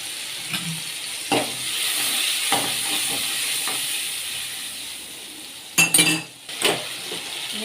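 A little water hits hot oil with cumin and chili in a home cooking pan, setting off a steady hissing sizzle, punctuated by a few clinks of a utensil against the pan and a louder burst near the end.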